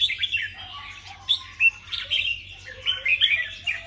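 A red-whiskered bulbul sings close and clear, a lively run of bright chirps, whistles and short warbled phrases in quick bursts, with no talking over it.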